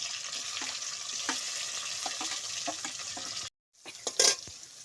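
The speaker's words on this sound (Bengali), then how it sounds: "আমার পেঁয়াজটা লাল লাল করে ভাজা হয়ে গেছে" Chopped onion with black cumin and dried red chilli sizzles steadily in hot oil, a loud, continuous frying hiss dotted with spatula scrapes and stirring clicks, cutting out briefly before resuming.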